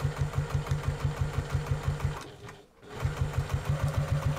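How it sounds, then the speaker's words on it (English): A sewing machine top stitching a fabric wine bottle cover, running in a steady quick rhythmic whir with a brief stop partway through before starting again. "I'm going to put my stitch length back onto 3 again, because this is just a top stitch"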